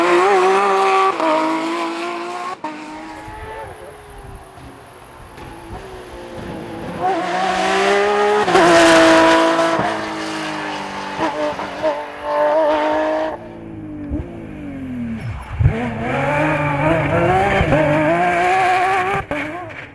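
A Porsche 997 rally car competing in the TER Historic ConXion Omloop Van Vlaanderen rally, its engine revving hard through repeated rising and falling gear pulls, loud and close, with brief tire squeal as it passes.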